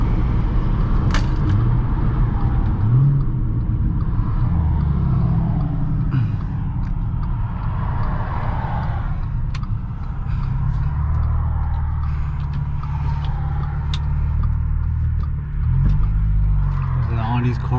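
An Audi S4 B8.5 with an ECS Tuning valved exhaust, valves closed, rumbles with a steady low drone, swelling briefly as the engine revs, loud and close throughout.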